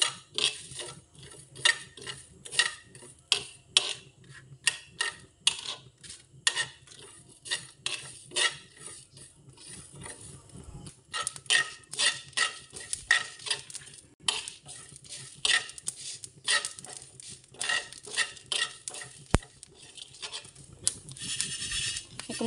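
Whole spices and dried red chillies dry-frying over medium heat in a pan for mango pickle, with constant rhythmic scraping and stirring, light rattling of seeds and soft sizzle, close and fairly loud.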